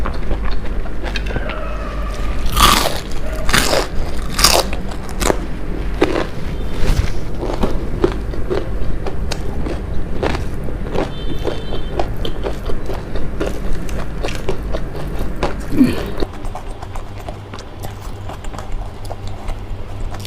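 Crispy arrowroot flower pakora is bitten and chewed up close, sharp crunchy bites followed by repeated munching, steady and loud throughout with no speech.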